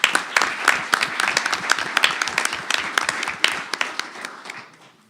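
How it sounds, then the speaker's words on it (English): Applause for trustees at a board meeting in Normal, Illinois: a small group clapping briskly with many distinct overlapping claps, fairly close, tapering off over five seconds. "Actually, they deserve a round of applause."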